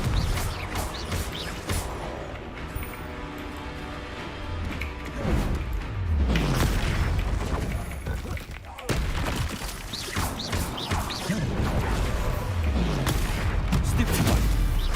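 Confringo blasting spells explode in a busy Hogwarts Legacy duel, a series of heavy thuds and crashing bursts over a dense, constant roar of spell effects and clatter.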